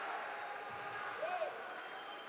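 A judo arena crowd applauds and cheers for a Russian competitor, a moderate, steady spread of clapping with a faint murmur of voices underneath.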